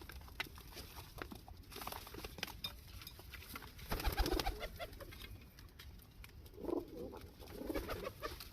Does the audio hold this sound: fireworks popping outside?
no